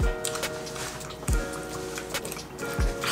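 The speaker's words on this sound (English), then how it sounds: "It's like I'm chewing on tree bark. I'm chewing on a big ass raisin." Dates being chewed up close, a few soft, sticky squishing bites repeating every second or so over faint steady background tones.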